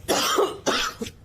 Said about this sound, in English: I can't stop this cough.